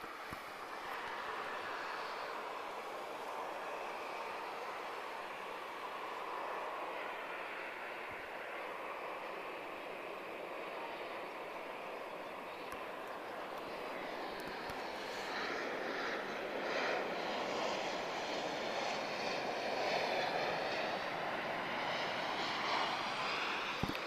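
A TAP Express Embraer E190 jet arriving at Lisbon Airport from Faro, heard as a steady broadband engine roar that builds slightly louder toward the end as it passes fairly close.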